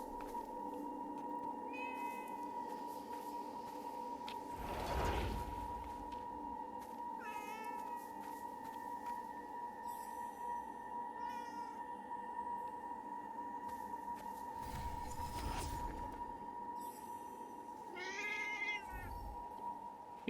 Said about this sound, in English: You're a relatively normal looking cat, except for, you know, the ram horns.